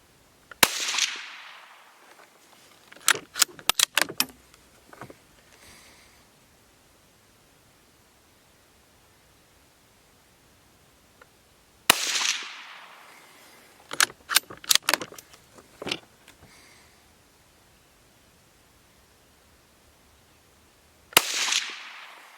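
Three sharp rifle cracks from a 17 HMR firing Hornady V-Max rounds at a target 100 yards away, each followed by a cluster of metallic rattles and clicks, with quiet gaps in between.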